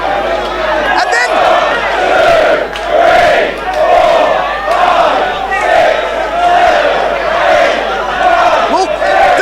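Wrestling crowd in a ballroom venue during a championship match, chanting in loud rhythmic bursts with cheering, steady and close throughout, with a commentator's voice under the noise.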